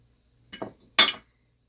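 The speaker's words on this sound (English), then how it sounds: "Okay, we're going to add the shrimp." Shrimp dropped into a pan of Alfredo pasta, heard as a few quick clinks and clatters of utensil against cookware: a couple of light taps, then one sharper, louder clank, close up with silence around them.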